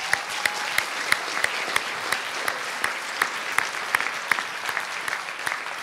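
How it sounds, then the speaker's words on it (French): Audience applause at an award ceremony for a national science competition final, a steady, fairly distant wash of clapping from a sizeable crowd, with sharper individual claps standing out. "J'aimerais qu'on les applaudisse également très fort."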